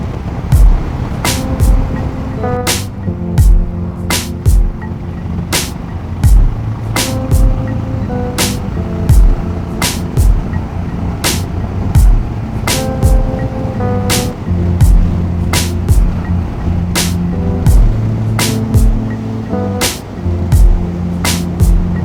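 A loaded motorcycle carrying luggage rides at a relaxed pace along a scenic B-road through the Western Ghats between Bangalore and Coorg, with steady engine drone and wind rush broken by frequent sharp clicks and bumps.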